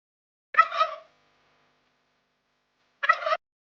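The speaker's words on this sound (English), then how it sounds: "turkey" A turkey gobbles twice, close and clear, with two short rattling bursts separated by about two seconds of silence.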